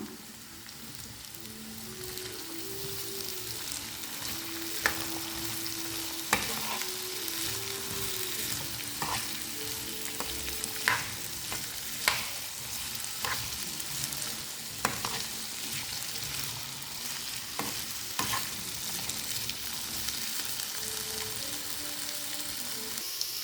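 Potato and carrot pieces fry in a pan with a steady, rain-like sizzle, while occasional clinks and scrapes of a spoon mark stirring; a faint melodic tone runs quietly underneath.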